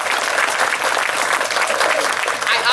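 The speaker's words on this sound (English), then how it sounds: "that absolutely deserves a round of applause" An audience at a Tournament for Heroes ceremony honoring Air Force veterans gives loud, sustained applause, a dense even wash of clapping with a faint crowd murmur beneath it.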